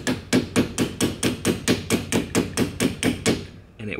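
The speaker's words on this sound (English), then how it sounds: "I don't have a special tool, but I have a hammer and a screwdriver." A hammer drives a screwdriver during renovation work in an abandoned mansion, landing about fourteen sharp, evenly spaced metallic strikes up close before stopping abruptly.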